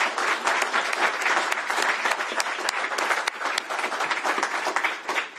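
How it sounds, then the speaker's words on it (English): A press conference audience applauds steadily, dense clapping sustained at even loudness throughout, with no one speaking over it. "give them one more round of applause"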